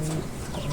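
Pigeons or doves coo softly in a brief, low murmuring call outdoors, with steady background noise and no talking.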